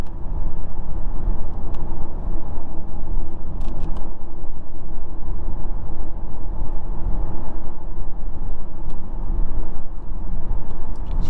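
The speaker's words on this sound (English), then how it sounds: "as we sit in traffic right here on the highway" Steady car road noise while sitting in highway traffic, a continuous low rumble of engine and tyres with passing traffic, loud and even throughout, with no talking.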